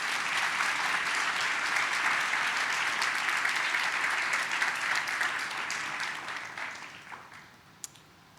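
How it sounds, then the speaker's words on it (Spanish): A church congregation applauds during a Spanish-language sermon, dense steady clapping from many people that gradually thins and fades toward the end, leaving a few scattered claps. "Denle un fuerte aplauso al Señor por eso."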